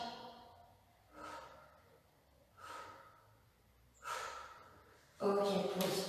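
Deep breaths taken during a Pilates shoulder-focused exercise while holding a raised-torso position with legs extended, four loud, breathy exhalations spaced about a second apart, the last one longest and strongest.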